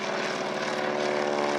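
Propeller airplanes fly at an air show in Île-de-France, one positioned above the other, producing a loud steady engine drone with a buzzing harmonic whine that holds throughout.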